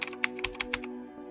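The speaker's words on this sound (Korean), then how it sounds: "노트북을 꺼내서 키보드를 두드리더니 화면을 바라본다" A laptop keyboard tapped in a sound effect: about half a dozen crisp, separate keystrokes in quick succession over a steady low electronic hum, then a faint final tap.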